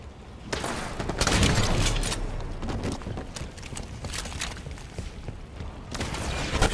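DMR rifle fire in Halo 5 multiplayer Infection mode, a rapid series of sharp gunshots in bursts amid other game sounds.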